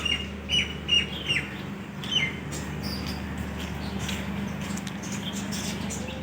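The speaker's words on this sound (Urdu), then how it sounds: "یہاں جو آپ کو سامنے دکھ رہا ہے وہاں پر پرندے ہیں، لو برڈ۔" Lovebirds chirp in quick, high bursts early on, then fainter tweets continue over a steady low background hum.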